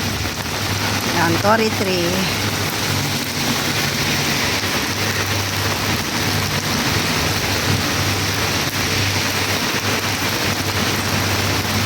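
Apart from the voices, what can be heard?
rain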